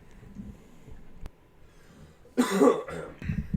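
A single close, harsh cough bursts out after a quiet stretch, followed by a brief rough breath.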